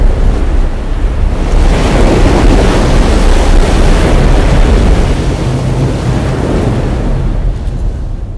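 Loud, continuous roar of surging water and crashing waves, like a flood, with a wind-like rush throughout and no voices.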